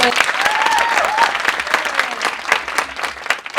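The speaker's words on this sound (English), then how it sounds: "Give yourselves a round of applause" Audience round of applause at the opening of a national championship event, a dense, sustained wash of many hands clapping in a large room, steady for several seconds with light crowd noise.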